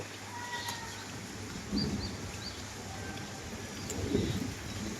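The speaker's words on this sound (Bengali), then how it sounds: "বৃষ্টির পানিতে" Steady broadband hiss of rainfall, with faint bird calls and a couple of low rumbles in the background.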